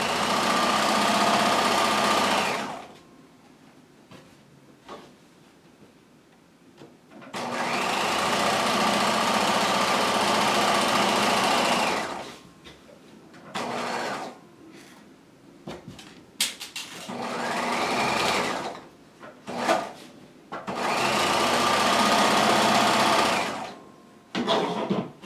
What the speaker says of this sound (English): Stitching up the lapel.